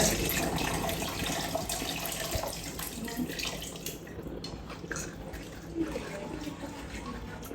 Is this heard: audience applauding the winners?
no